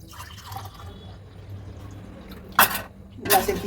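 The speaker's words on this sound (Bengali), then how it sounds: "এবার আমি গ্লাসে ঢেলে দেবো।" Blended kesar badam thandai is poured into a glass, with faint trickling at first and then two short, sharper splashing bursts near the end.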